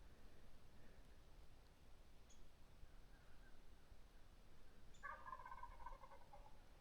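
A distant wild turkey gobble rings out once, rapid and rattling, after faint hen calls over a quiet outdoor hiss.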